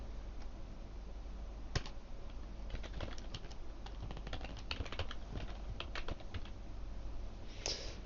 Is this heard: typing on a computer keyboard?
yes